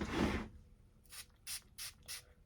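A perfume atomizer fires four short, crisp mists of fragrance in quick succession after a brief rustle, each spray close and fairly quiet against a near-silent background.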